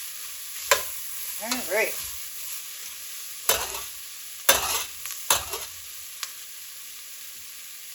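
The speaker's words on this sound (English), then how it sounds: "I'm just going to swish that all around. Get that garlic and those sweet seasonings incorporated." Garlic and sweet seasonings being stirred in a pot for turkey and wild rice soup, giving a few short scraping, sizzling bursts separated by quiet gaps, with a brief spoken word near the start.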